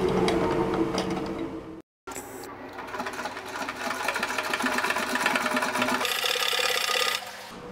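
A sewing machine stitches a frill pillow cover made from old tops, running in a loud, close, continuous rapid whir that stops briefly near two seconds and then resumes steadily.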